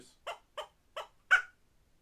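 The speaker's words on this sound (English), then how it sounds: "squirrel will bark at deer" A squirrel gives four quick, raspy barking chirps in a rapid, evenly spaced series, the last one louder and longer, sounding close and clear against near silence.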